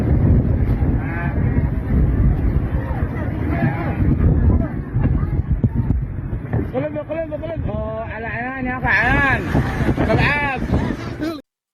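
Sheep from an overturned livestock ship in the Gulf of Aden bleat repeatedly over loud rushing water and engine noise, their wavering cries growing clearer toward the end.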